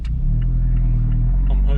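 Abarth 124 Spider exhaust while driving, picked up by a mic at the rear of the car: a steady, loud low rumble that holds throughout with no clear revving, over faint background noise.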